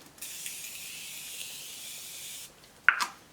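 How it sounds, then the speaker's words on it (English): A Morphe Continuous Setting Mist bottle sprays onto a face, releasing one long, soft, close hiss of fine mist that lasts a couple of seconds. A short click and squirt follow just after it stops. "Going in with my Morphe Continuous Setting Mist"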